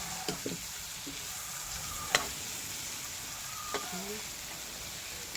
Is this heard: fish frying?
yes